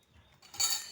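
A spoon and cutlery clinking against dishes at a home meal, a single brief, faint metallic chink rising out of near silence with no talk.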